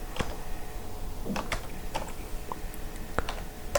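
HTML code is typed on a computer keyboard in VS Code, with scattered, fairly close keystrokes and clicks at an uneven pace and no voices.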